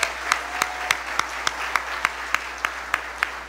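Applause from an audience at the release of Guyana's CSEC, CAPE and CVQ exam results for the class of 2026 is heard, with evenly spaced sharp claps over a steady wash of clapping. The sound is moderately distant and has no talk over it.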